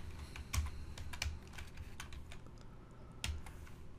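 Keys clack at a quick, uneven pace as CSS code is typed on a computer keyboard, close and clear, with a few heavier thumps standing out over a low steady background hum.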